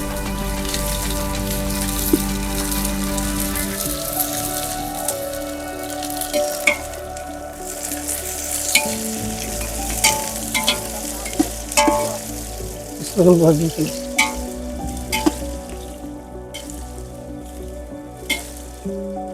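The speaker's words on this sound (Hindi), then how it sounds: "यहाँ पर मैंने प्याज डाल दिया है" Onions fry in mustard oil for a rice dish, a sustained crackling sizzle with scattered popping spits and a few clattering stirs near the middle, steady and close without speech.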